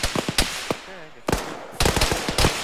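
Bursts of loud automatic gunfire in the military shooter Arma 3, several rapid volleys of close, sharp shots separated by short pauses, with a faint radio-like voice between them.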